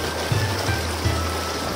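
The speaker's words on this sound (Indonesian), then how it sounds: "Sungai ini pun mengalir dari perbatasan Lombok Tengah hingga Lombok Timur." A river in a valley at the foot of Rinjani on Lombok rushes as a broad, steady wash of flowing water, close and continuous, with a faint low rumble beneath.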